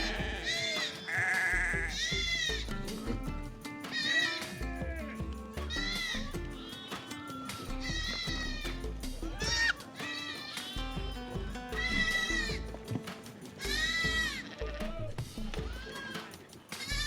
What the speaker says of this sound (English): These are beautiful, beautiful goats, guys.